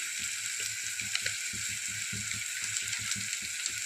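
Asafoetida hitting hot oil for a spicy misal curry, a steady bright sizzle crackling throughout with soft stirring bumps beneath, close and continuous.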